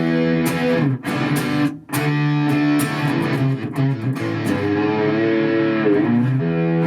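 An electric guitar runs through a Boss Katana 100 amp set to 60s fuzz, giving buzzy sustained chords with choppy gaps and bright picking attacks, heard alone and up close.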